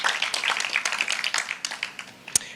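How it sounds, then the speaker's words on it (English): Audience applause in a hall at a youth agricultural symposium, steady dense clapping from many hands at moderate distance, tapering slightly toward the end with a sharper single clap near the close. "Let's have a round of applause, please."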